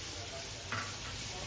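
Spice paste of ground coriander, cumin and chilli fries in leftover fish-frying oil in a wok, a soft steady hiss with a brief faint scrape, quiet and close.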